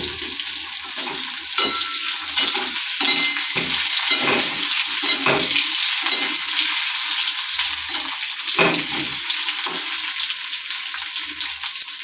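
Boiled potatoes fry in hot oil in a pan with a constant sizzle, broken by repeated scraping and clattering as they are stirred, close and fairly loud.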